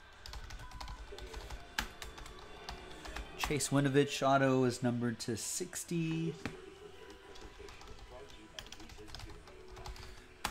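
Quick, irregular clicks of fingers typing on a computer keyboard while entering the names of 2019 Leaf Trinity football autograph cards, running through the whole stretch beneath a person talking in the middle.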